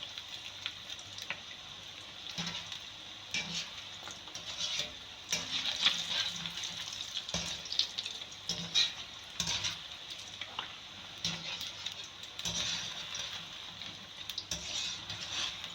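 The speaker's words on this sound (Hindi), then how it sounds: "दरमियानी आंच पर हमने इसको पकाना है, जिस तरह हम पकौड़े फ्राई करते हैं उतनी आंच पर हमने इसको फ्राई करना है" Pieces of fish fry over medium heat for a restaurant-style fish chilli, giving a steady close sizzle with soft bubbling and occasional scrapes and stirs, with no talk.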